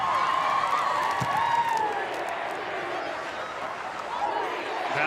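A large crowd at the 2019 Nebraska Class A state girls soccer championship between Millard West and Omaha Marian fills the space with steady chatter, scattered whoops and cheers, all at a fairly constant level with no single voice standing out.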